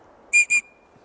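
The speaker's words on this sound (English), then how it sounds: "This is a ferro rod and whistle combination." Two short, shrill blasts from a survival whistle combined with a ferro rod, in quick succession, loud and close, with a thin tone trailing off after the second.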